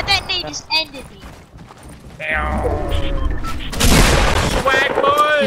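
A grenade blast in Fortnite Battle Royale hits as a loud, sudden burst, followed by crackling noise, with excited talking before it.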